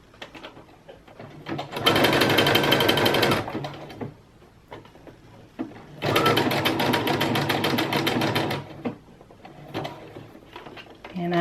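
A sewing machine stitches along the strap edge of bra fabric in two loud, rapid runs separated by quieter pauses, with a person talking during the gaps.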